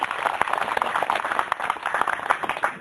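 Brief clapping from an audience at a Buddhist dharma talk in Bali, a scattered, moderately loud burst of hands lasting a few seconds.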